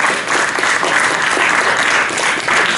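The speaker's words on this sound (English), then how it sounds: "Again, just another round of applause, just to Mariama." An audience applauds warmly after a talk at an event on Black Muslim history, a dense, steady clapping that lasts a few seconds with no voices on top.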